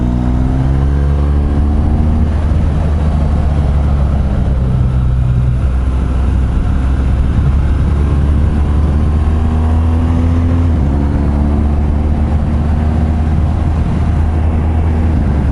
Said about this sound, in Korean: 이제 엔진 필링이 저는 되게 매력적인 엔진이라고 생각은 합니다